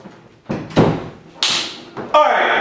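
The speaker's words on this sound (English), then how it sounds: "Let me close this door." A door being shut indoors, with a few thumps and a closing slam, the loudest impact coming last, and a voice speaking faintly in between.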